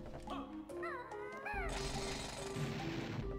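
Banjo-Tooie game audio at a Mumbo pad carries quick cartoonish chirps and sweeps, then a sudden harsh, rattling, drill-like burst that holds for a couple of seconds, fairly quiet overall.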